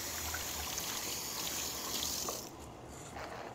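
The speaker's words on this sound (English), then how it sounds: "Let me wash my hands." A kitchen sink tap runs for hand washing, a steady hiss of flowing water that drops off near the end, faint and without talk.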